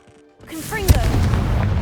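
Confringo explosive spell cast in Hogwarts Legacy: a rising swooshing whistle, then a sharp close boom with a rumbling tail that lingers. A voice is heard just before the blast.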